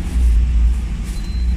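A Mitsubishi Montero Sport engine, just after EGR cleaning, runs with a loud, deep, steady rumble close by for a brief moment and no talk.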